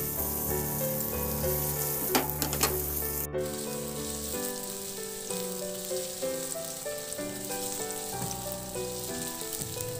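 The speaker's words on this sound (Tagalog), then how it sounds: "Ihalo lang hanggang sa maluto lang din yung carrots" Carrots fry in oil in a pan with a steady hiss and crackle. Brief scraping taps come from stirring, and background music runs beneath.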